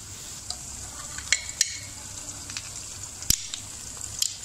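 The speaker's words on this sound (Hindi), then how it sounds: "अब हम इसमें लहसुन अदरक का पेस्ट ऐड करते हैं" Garlic and ginger paste hitting onions frying in a pan while cooking palak chicken, a soft steady sizzle with occasional sharp crackles and stirring clicks, quiet and close.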